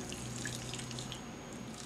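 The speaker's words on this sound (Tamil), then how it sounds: "எல்லா பக்கமும் படுற மாதிரி தண்ணி ஊற்றிக்கலாம்." Water poured onto caustic soda to make lye for homemade soap trickles and splashes steadily with light dripping, faint and close, with no voices.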